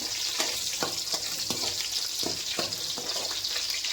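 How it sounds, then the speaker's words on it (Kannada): Garlic fries in oil over a low flame with a continuous close sizzle. Soft, regular stirring taps run through it, and no one speaks. "ಬೆಳ್ಳುಳ್ಳಿ ಬ್ರೌನ್ ಕಲರ್ ಬರಬೇಕು ಅಲ್ಲಿವರೆಗೂ ಲೋ ಫ್ಲೇಮಲ್ಲಿ ಇಟ್ಕೊಂಡು ಅದನ್ನು ಬಾಳಿಸ್ಕೊತಾ ಇದ್ದೀವಿ"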